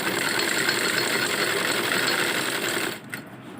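A sewing machine stitches trousers with a loud, steady, rapid mechanical whir up close, then stops abruptly near the end.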